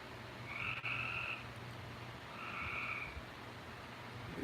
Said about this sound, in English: You can hear the frogs, yeah.